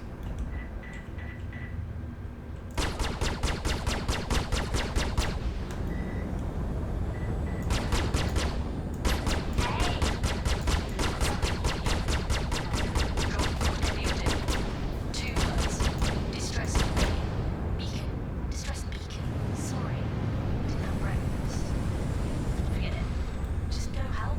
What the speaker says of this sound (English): I'm firing missiles too far away.